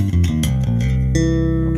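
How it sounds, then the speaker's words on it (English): Fender Jazz bass with DiMaggio pickups and a Glockenklang active preamp, treble boosted all the way, giving a brighter, more percussive tone over a few quick plucked notes and then a held low note, close and loud, with no voices. "Okay, so a lot brighter tone there."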